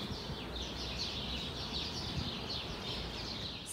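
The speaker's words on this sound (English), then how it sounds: "Here's a better view from the balcony. You hear the birds." Birds sing and chirp outside an apartment balcony, a dense, continuous twittering chorus at moderate distance over steady background hiss.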